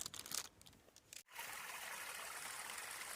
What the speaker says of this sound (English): Water comes right out of the rock